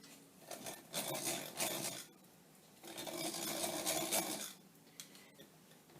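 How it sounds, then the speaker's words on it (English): Hand-cranked egg beater creaming ingredients for banana oatmeal chocolate chip cookie dough: two long bursts of rough, rasping whirring with a steady churning rhythm, separated by quieter pauses, close and fairly soft with no talking. "And here's how you use an egg beater."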